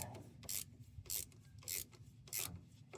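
Rhythmic metallic rasping as a nut is worked onto a battery terminal stud on a Kubota L210 tractor, about five even strokes, close and fairly quiet.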